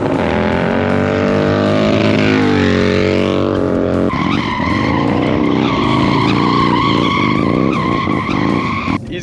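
Loud, sustained engine roar of a motorcycle doing a sliding burnout, revs rising and falling with harmonic whine and a shift in pitch midway, tire squeal mixed in, close and continuous throughout.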